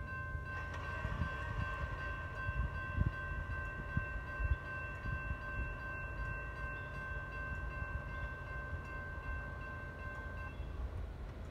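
A CSX freight train of about 80 cars hauled by an SD40 rumbles past at trackside, its horn sounding a long sustained chord over the low steady roll of wheels and cars.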